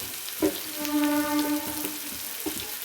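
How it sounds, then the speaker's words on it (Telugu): Grated carrot fries with salt in a pan, giving a soft sizzling hiss with a few light stirring knocks and a brief tonal hum in the middle, and no talking. "తురుము పెట్టుకున్న క్యారెట్ తురుము కూడా వేసుకొని వేయించుకోవాలి 2 మినిట్స్"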